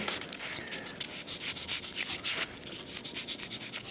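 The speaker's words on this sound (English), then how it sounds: "with a piece of sandpaper I'm going to just round that off so it's a nice dome shape" Sandpaper rubs over a polystyrene puppet eye, rounding it into a dome: quick, rhythmic rasping strokes, close and fairly loud, with nothing else heard.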